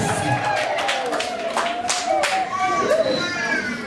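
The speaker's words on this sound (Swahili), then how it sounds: "Vigeregere vingi na makofi." Guests at a Christian church wedding in Tanzania clap in a quick patter, mixed with high trilling ululation and cheering voices, lively and close for a few seconds.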